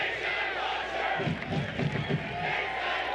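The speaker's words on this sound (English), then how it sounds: "Hometown crowd appreciating the save by their goalkeeper." Home soccer crowd at a Detroit City FC match roaring after their goalkeeper's penalty save, a loud sustained wall of cheering and chanting filling the stadium.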